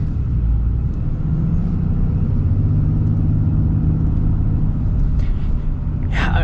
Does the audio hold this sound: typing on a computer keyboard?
no